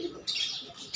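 Giribaz pigeons kept in a loft give short squawking, throaty calls: a brief low call at the start, then bright rasping bursts that recur, fairly close and moderately loud.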